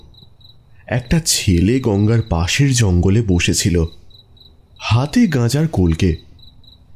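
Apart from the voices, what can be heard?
crickets chirping at night, audio story effect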